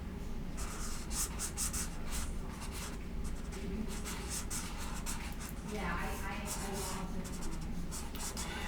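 A pen scratches across paper while comic panels are drawn, making close, continuous scratchy strokes in quick bursts with brief pauses between lines.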